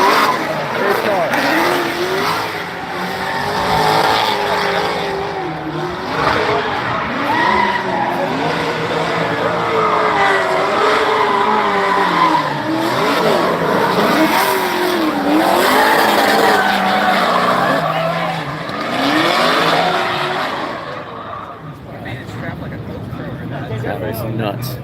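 Race cars lapping a track with squealing, skidding tires and steady engine roar, loud and continuous throughout, with voices talking over the noise.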